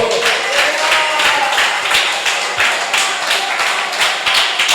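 A church congregation claps loudly in rhythmic unison, a fast, steady run of crisp hand claps repeating evenly throughout, with faint voices mixed in underneath.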